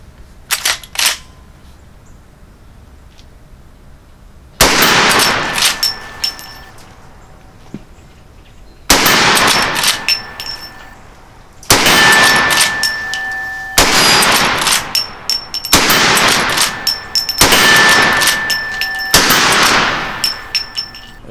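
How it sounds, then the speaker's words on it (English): Loud, sharp single shots from a color case hardened .44 Magnum side gate lever-action carbine firing 240 grain full metal jacket flat point hand loads, about eight spaced reports with ringing tails and quiet gaps between. "Good all-around plinking and practice load for the 44 Magnum is a hand load using a 240 grain full metal jacket flat point bullet"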